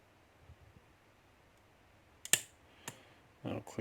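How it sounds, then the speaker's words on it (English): Pins in a Japanese dimple lock click faintly under tension during picking, a few sharp isolated ticks over a quiet background, close and small. "I'll click out of 3 and a bit more of a turn on the core."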